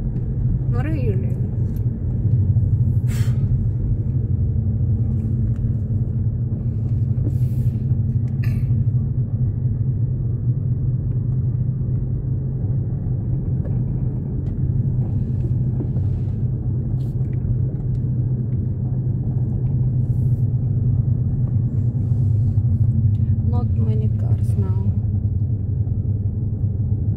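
Low, steady car engine rumble while driving slowly through Woburn Safari Park in England, continuous and even throughout, with a few faint thin sounds above it and no speech.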